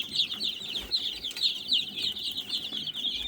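Small Australorp chicks cheep and peep continuously in a high-pitched chorus in a coop, fairly close, with light rustling underneath.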